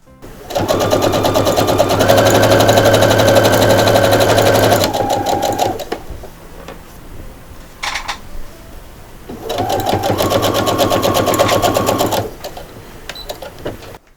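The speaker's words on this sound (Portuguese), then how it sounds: "Eu vou à máquina e vou passar o pontinho reto nesse momento." A sewing machine runs a straight stitch along the hem of a cloth kitchen towel in two long steady whirring bursts, loud and close, with quieter handling sounds of fabric and machine in the pause between.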